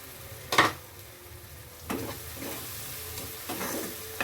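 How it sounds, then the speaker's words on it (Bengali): Fried prawns go into a pan for Bengali potol dorma and sizzle there, with three sharp stirring clatters of a spoon against the pan rising over a low, steady fry. No one speaks. "ভালো করে এবার কষিয়ে নেব"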